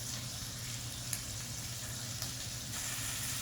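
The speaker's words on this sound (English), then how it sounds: "once your pan's heated up, we're just going to put the salmon in. And while the skin is searing" Salmon fillet laid skin-down in a preheated pan for Dijon salmon, searing with a steady, even sizzle that holds close and continuous throughout, broken only by a couple of faint clicks, with no voices over it.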